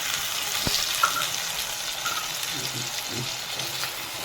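Tomatoes go into a bitter gourd curry in a pan, giving a steady soft sizzle and frying hiss with a few stirring scrapes and clicks, fairly quiet and unbroken.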